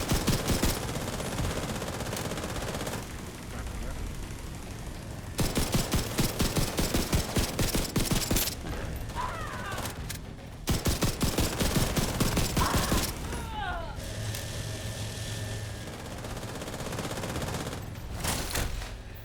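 Automatic weapon fire in The Division 2 comes in long rapid bursts separated by quieter gaps, loud and close, with a few short voice calls between volleys.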